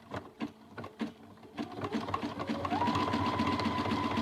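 A sewing machine stitches a miniature quilt, first with a few slow separate needle thumps as it is cranked, then running into a fast, steady whirring hum with a rising motor pitch.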